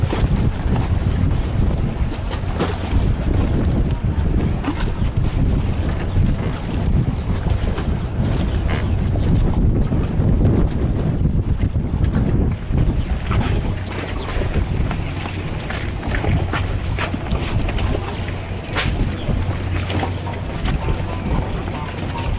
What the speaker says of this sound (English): it's an ocean-going automobile carrier